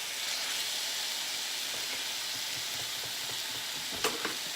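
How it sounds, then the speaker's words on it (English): Steak sears in a hot pan with a steady, even sizzle and hiss throughout, close and clear, with a couple of small pops near the end. "So once you sear it from both sides for 6 minutes on both sides"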